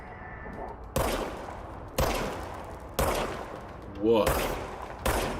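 Gunfire in the video game Control comes as five sharp, loud shots spaced about a second apart, each with a bright crack and a decaying tail. A player's voice speaks briefly between shots.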